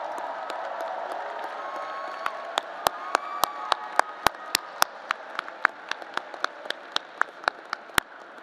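A large graduation ceremony audience applauds in a broad, steady wash of clapping, with sharp individual claps popping out close by at an uneven rhythm across the whole stretch.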